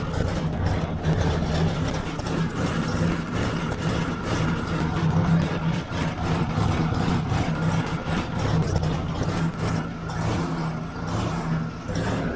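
A 1957 Ford tractor engine fitted with a new carburetor runs continuously and roughly, a steady low throb with uneven, lumpy pulses, close and loud throughout with no talking.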